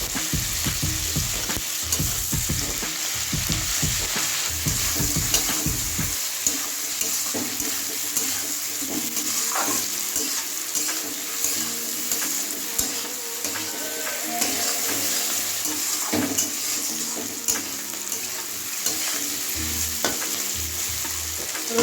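Garlic paste sizzles in a hot pan while a spoon scrapes and stirs it, with close, busy frying crackle, intermittent clunks of stirring, and a brief splash of water in the background.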